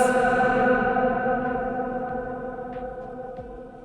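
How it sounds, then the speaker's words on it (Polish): Sound ringing on in a reverberation chamber with a reverb time of over 14 seconds: a sustained, tonal wash that fades only very slowly across several seconds, with faint clicks surfacing in the lingering tail. "Czas pogłosu w tym pomieszczeniu wynosi ponad 14 sekund."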